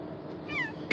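A pet cat named Shadow meows once at close range, a rising then falling cry near the end of a brief indoor stretch, with a sharp thump or clatter right after it.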